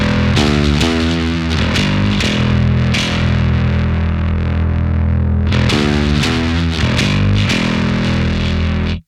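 A bass guitar runs through a Two Notes Revolt Bass tube preamp, giving loud, heavily driven, distorted notes and sustained chords that ring out in two phrases before cutting off abruptly.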